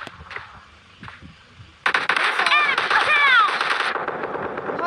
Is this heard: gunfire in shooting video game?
yes